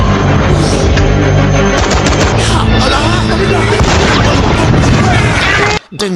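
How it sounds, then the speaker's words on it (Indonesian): Loud, dense bursts of heavy tank cannon booms and rapid machine-gun fire from the war film Fury (2014) crash together, continuous and chaotic, then cut off abruptly near the end. "Dengan bermodalkan peluru meriam dan senapan mesin yang dipikam oleh Norman, mereka semua pun mulai membabi-buta menembaki semua orang."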